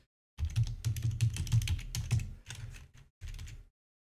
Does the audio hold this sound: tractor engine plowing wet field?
no